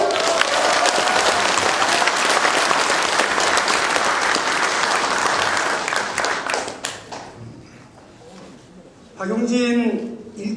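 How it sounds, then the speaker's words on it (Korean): Audience at a political party leadership rally in Busan applauding in a loud, dense wash of clapping that fades out, after which a speaker's amplified voice resumes. "박용진에게 힘찬 박수 한번 다시 보내주십시오"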